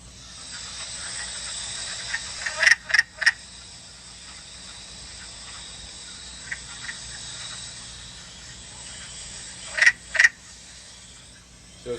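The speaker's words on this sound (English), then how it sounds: "Let's do the wood frog call now." A wood frog gives a recorded chattering call: two short bursts of quick clucking croaks, about seven seconds apart. Insects hum steadily in the background.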